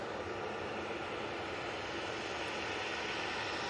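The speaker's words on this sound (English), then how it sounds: "SAS A320 Neo is coming down Tango now. This will be off to Stockholm." An SAS Airbus A320neo jet taxiing at Manchester Airport, a steady broadband engine roar at moderate distance, unbroken and even throughout.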